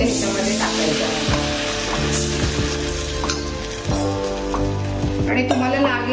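Cornflour slurry poured into a pan of frying onion and capsicum gives a steady, close sizzle with faint clinks, under a sustained tonal musical background.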